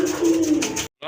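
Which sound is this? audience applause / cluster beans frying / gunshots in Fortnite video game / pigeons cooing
pigeons cooing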